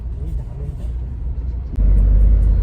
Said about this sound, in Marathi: 10 मिनिटं झाली आम्ही ट्रॅफिक मध्ये.